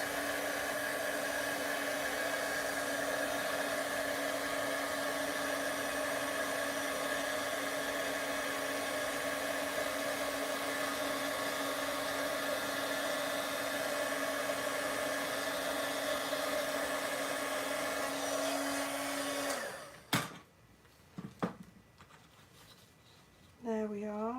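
An embossing heat tool blows a steady, loud whooshing hum for about twenty seconds, then cuts off, leaving quieter handling sounds.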